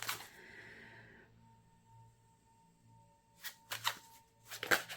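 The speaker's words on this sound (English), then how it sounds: "can you guys see that I'm shuffling?" Tarot cards being shuffled by hand, a few quick crisp riffling bursts close up after a quiet stretch with faint hum.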